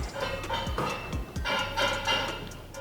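An Echelon stair climber in use gives off a rough, rhythmic grinding and clunking, with repeated low thumps and scraping bursts at close range.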